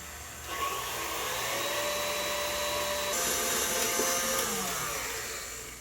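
An electric mixer whips egg whites at maximum speed, a loud continuous high whirring drone that holds steady and shifts pitch slightly partway through, with no talking.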